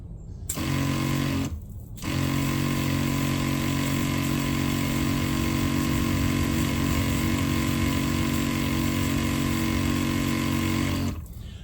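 A Seaflo 23 on-demand water pump, externally mounted, kicks on with a loud steady electric hum and whine, cuts out briefly, then restarts and runs continuously until it stops abruptly.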